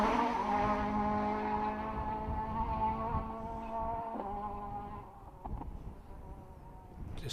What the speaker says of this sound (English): Just hear him staying on the throttle for quite a bit out of camera, so really fast bit of road